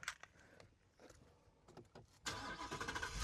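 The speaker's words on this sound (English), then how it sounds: "So now I'm about to start my truck." A Ford F-150 truck with a 5.0L engine starting: faint clicks and key jangling, then the starter cranks and the engine catches, settling into a loud steady idle near the end.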